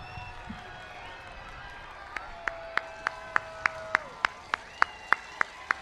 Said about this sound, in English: give them a round of applause to thank them for their support